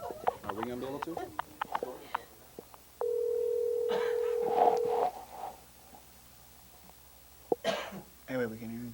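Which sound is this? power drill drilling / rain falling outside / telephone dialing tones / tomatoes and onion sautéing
telephone dialing tones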